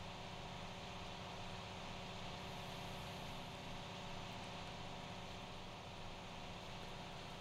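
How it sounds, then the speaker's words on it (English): A tractor engine in Farming Simulator 19 drones steadily at idle, a low, even rumble that holds alone without a break for the whole stretch. "it's such a slow tractor"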